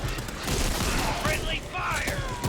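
Dense, continuous gunfire rattles against zombies in the Back 4 Blood video game, rapid shots layered with game effects and a faint voice underneath, loud and sustained across the whole stretch.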